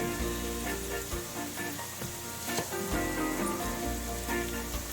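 Sweet potato, onion and garlic tortilla sizzling loudly in a pan while being stirred, a dense continuous crackle with scraping movements and a low hum, close up.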